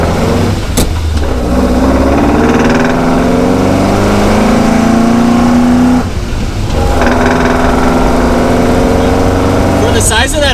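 A 1965 Alfa Romeo Giulia SS 1600 engine accelerates hard, revs climbing steadily, dropping briefly at a gear change, then rising again, loud and close under wind noise, with voices talking over it.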